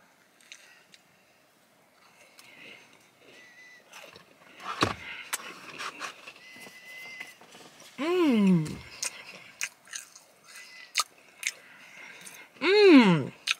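Chewing on a Crumbl cookie, with soft crunchy bites and mouth sounds scattered across the clip, broken by a couple of rising and falling vocal exclamations.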